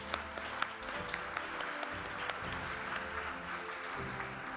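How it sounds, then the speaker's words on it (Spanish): Applause for honored employees at an award ceremony, a steady, fairly quiet patter of many hands clapping with a few sharper claps standing out, heard from a distance in a large room. "un fuerte aplauso en este momento"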